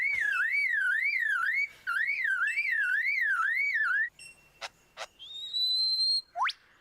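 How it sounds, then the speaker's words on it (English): A car alarm warbles loudly in two rising-and-falling bursts, followed by a few sharp, piercing chirps and whoops. "And that's a car alarm."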